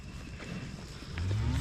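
Cattle on a farm, cows and bulls together, with a deep low moo rising near the end over a soft outdoor background.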